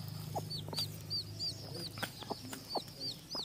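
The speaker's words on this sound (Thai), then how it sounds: "ลูกกินครับลูกร้องเจี๊ยบเจี๊ยบแม่ก็เรียกมาคุยดิน" A black bantam hen gives low, soft clucks while her chicks peep in repeated high chirps close by. Faint talk sits in the background.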